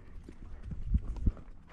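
A horse's hooves clip-clop slowly on a pasture ride, several soft, uneven thuds close by, the last two louder, with no talk.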